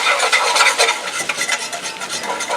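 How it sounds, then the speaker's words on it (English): A whisk scrapes rapidly and rhythmically through flour and melted butter in a pan, a close, brisk swishing with regular strokes and no talking. "We'll whisk this in."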